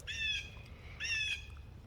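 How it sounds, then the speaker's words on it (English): Birds squawk twice in a garden, two short harmonic calls about a second apart, clear over a low background rumble with no talking. "It's okay to have birds in the background"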